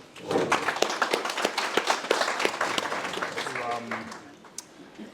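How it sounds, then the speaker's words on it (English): An audience applauds for Sarah at a gallery talk, a burst of dense clapping that swells and then thins out, with a voice beginning to speak near the end. "big round of applause for Sarah, please"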